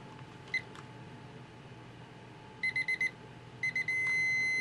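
A digital countdown timer sounds its alarm in rapid clusters of high electronic beeps, first in a short group, then settling into a continuous tone, clear over a quiet room.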